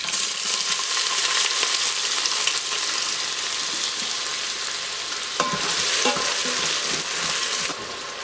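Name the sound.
diced onion frying with spluttering shahi jeera in Instant Pot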